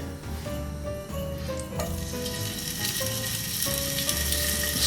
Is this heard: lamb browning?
yes